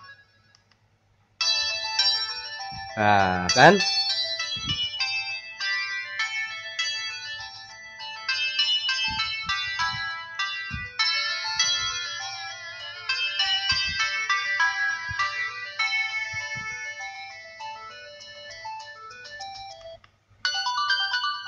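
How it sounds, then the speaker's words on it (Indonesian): A ringtone plays from a Samsung GT-E1195 flip phone through its repaired speaker, a bright beeping electronic melody repeating for many seconds after a brief rising tone, with a few short spoken words at the start. "Kita nyalakan ada dering coba."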